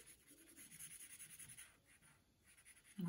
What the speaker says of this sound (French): je fais un petit arrondi ici avec un feutre marron. Je vais venir colorier ici.